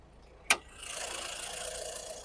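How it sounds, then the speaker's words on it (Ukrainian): A sharp click, then the 1.6 diesel engine of a 2012 Nissan Qashqai+2 settles into a steady, even idle running smoothly at close range. "Двигун працює гарно, рівненько"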